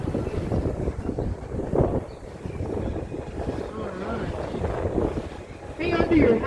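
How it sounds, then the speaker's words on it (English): Strong wind blows steadily and rumbles against the microphone outdoors at moderate loudness, while people talk over it. "It's getting windy."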